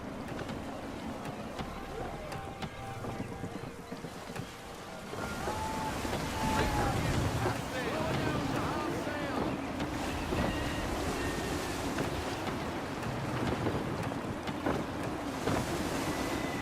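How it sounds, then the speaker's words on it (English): A sailing ship ploughs through the sea in gusty wind in the video game Assassin's Creed III, with a steady roar of wind and waves that swells louder partway through and keeps rushing throughout. "Gusty winds can be difficult to manage."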